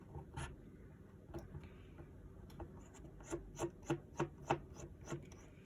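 Phillips head screws holding the iron sights on a TM HK45 pistol slide are turned out with a screwdriver, giving quiet rhythmic rasping clicks, a steady run of close, evenly spaced ticks toward the end.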